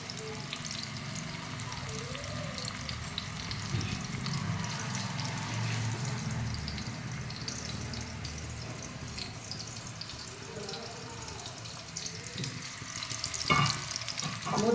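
Stuffed bitter gourd frying in oil in a pan, a soft steady sizzle with occasional stirring scrapes and a brief clatter near the end, quiet and without speech.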